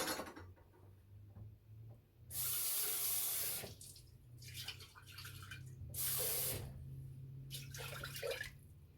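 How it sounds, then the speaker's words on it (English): Tap water runs in two loud bursts into a glass jar, splashing and sloshing, with quieter rinsing and clinking in between. "I'm going to get some water and rinse out the jar a little bit."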